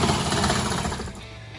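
Hydraulic rock hammer breaking rock while trenching for an 850-foot residential waterline near a house, a loud, continuous rattling pound that eases slightly toward the end.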